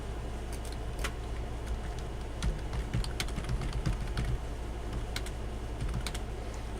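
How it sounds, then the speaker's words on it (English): Rapid, uneven clicking of fingers typing on a computer keyboard, close and fairly quiet, with clusters of sharper keystrokes over a steady low background hum. "Let me go type that in"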